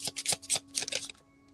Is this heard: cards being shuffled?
yes